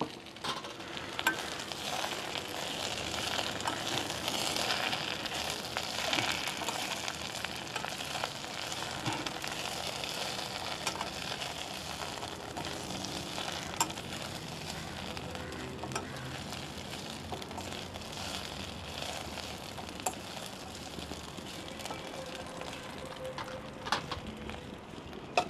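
Hog plum (Spondias pinnata) leaves sautéing in a pan for a herbal chutney give a steady, even sizzle and soft crackle that runs unbroken and moderately close, with no voices over it.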